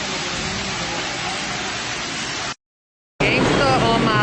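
Heavy rain pours and floods into a New York City subway station, a loud, steady broadband roar like a downpour or waterfall that cuts out briefly and then returns just as strong.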